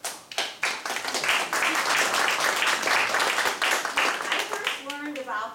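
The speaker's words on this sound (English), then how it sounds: "I think they deserve a round of applause" Audience applause for Dr. Mott and Dr. Shannon, a dense, steady round of clapping that starts sharply and holds loud for several seconds before tapering at the end.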